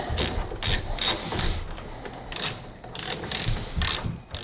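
A hand ratchet clicks in repeated bursts of rapid pawl clicks while loosening fasteners on the left front headlight assembly of a wrecked Dodge Dart, close and loud with short pauses between strokes.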